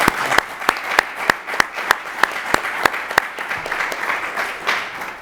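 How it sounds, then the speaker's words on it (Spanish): A conference audience at a science talk breaks into applause for a speaker, a dense, steady clapping from a crowd indoors, with a few sharper individual claps standing out. "Un aplauso, por favor, para don José María."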